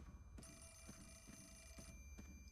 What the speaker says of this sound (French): Je crois que le téléphone sonne.